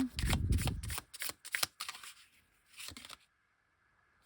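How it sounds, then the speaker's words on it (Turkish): Tarot cards being drawn and handled from a deck, with close, soft papery shuffles and brief slaps in quick irregular bursts, then fading to near silence. "İki kart daha alayım şuraya."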